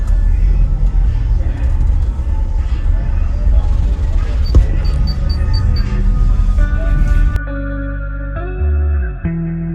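Deep bass pounds from many 15-inch subwoofers packed into a vehicle, loud and boomy with a dense low-end rumble, then gives way to sustained low tones in the last few seconds.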